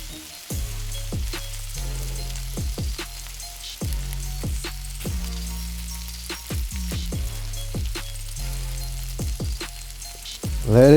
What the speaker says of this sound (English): I gotta put the butter in the pan.